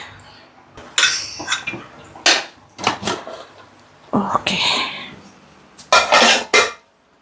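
Pressure cooker lid shut over eggs in a home kitchen: a series of sharp metallic clanks and clinks in bursts, close and fairly loud, with brief gaps between them.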